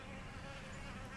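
A soft, continuous buzzing of honey bees collecting water, a steady drone of wings that stays faint and even throughout.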